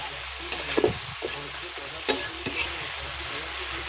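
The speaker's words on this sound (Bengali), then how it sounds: "এইভাবে পেঁয়াজের মধ্যে ভালো করে কষে নিচ্ছি জলটা শুকিয়ে গেলে তেল ছাড়বে" Onions with ginger-garlic paste water being stirred and fried in a pan, a soft steady sizzle broken by a few sharp scraping stirs of the spoon, close and fairly quiet.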